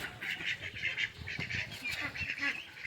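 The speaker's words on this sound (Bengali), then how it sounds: "হাঁসের বাচ্চা থেকে শুরু করে বড় ছোটো সবাইকে খেতে দিই।" Ducks of all sizes, from ducklings to adults, quack and honk repeatedly while being fed a mixed grain feed of paddy and wheat on a small farm, a busy overlapping chorus at moderate volume.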